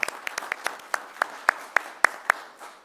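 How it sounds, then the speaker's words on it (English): A short burst of applause from a small group at a city commission meeting, with distinct individual claps in an uneven rhythm, close and moderately loud, fading toward the end. "let's give him a round of applause"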